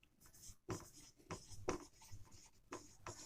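A pen writes an equilibrium constant formula for a decomposition reaction on paper or board, a close, faint run of scratchy strokes in short bursts with brief pauses and no talk.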